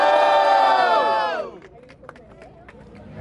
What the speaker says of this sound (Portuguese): Barulho pra Maxi.